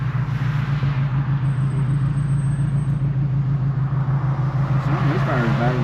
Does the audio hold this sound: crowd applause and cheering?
no